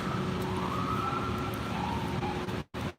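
A police siren wails steadily through continuous Los Angeles street noise at night, its rising and falling tone sustained before a brief dropout near the end.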